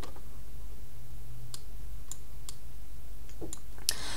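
Sparse computer mouse clicks while editing in MS Word, a handful of sharp isolated clicks spaced irregularly over a low steady room hum, close and fairly quiet, no talking.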